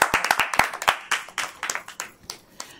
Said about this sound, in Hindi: एक बार जोरदार तालियां उनकी श्रेष्ठ रचना के लिए